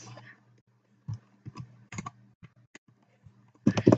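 Computer keyboard keys pressed one at a time while assigning recording hotkeys in OBS Studio: sparse, close, sharp clicks with uneven pauses, ending in a quicker burst of taps.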